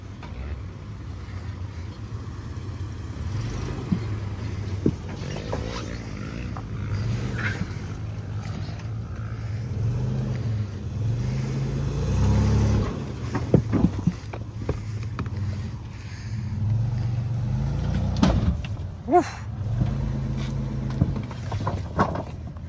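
A Toyota off-road truck crawls over rough terrain at Folsom Lake, Prairie City, its engine a low, steady rumble that swells and fades with throttle, with occasional clunks and knocks from the drivetrain and wind buffeting the microphone.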